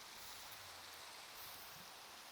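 Rain falling in a modded Minecraft survival game, a steady faint hiss of drops with no variation and no voices.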